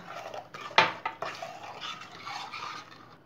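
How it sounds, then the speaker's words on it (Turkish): A spoon stirring water in a pot for milk pudding, with one sharp clink of metal on the pot followed by lighter scraping and swirling, close and moderately quiet. "Önce bir karıştıralım şöyle."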